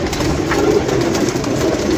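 Pigeons coo with a low, continuous murmuring drone, loud and close, as though from a loft or flock of kept birds.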